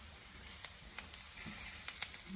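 Onions fry in a pan with a steady soft sizzle and a few faint clicks of stirring, close and fairly quiet, with no talk.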